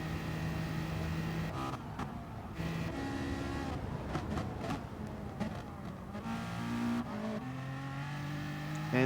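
Race cars roar through a GT Sport race at Monza, engines revving and shifting as one car overtakes another, a loud continuous drone with pitch climbing and dropping through gear changes.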